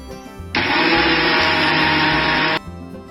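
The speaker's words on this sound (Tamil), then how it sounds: "இதை மிக்ஸி ஜாரில் போட்டு நம்ம இட்லி மாவு பதத்துக்கு அரைச்சி எடுத்துக்கலாம்." A mixer grinder jar grinds soaked rice into smooth idli-style batter for rice paniyaram, a loud steady whirring roar that starts abruptly, runs for about two seconds and cuts off, with no talking.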